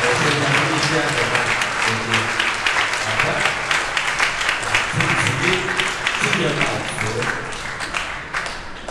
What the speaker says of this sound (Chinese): 让我们大家给他们热烈的掌声，欢迎欢迎！